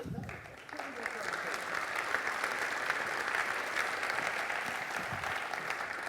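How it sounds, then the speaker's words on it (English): A conference audience gives a round of applause after a talk on threat detection and response, dense sustained clapping that swells after a brief quieter moment and stays steady throughout. "let's start with round of applause"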